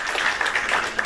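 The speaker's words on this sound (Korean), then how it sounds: "박수하겠습니다." A church congregation claps together during a Sunday worship service at Eungwang Church, giving a brief, steady patter of applause.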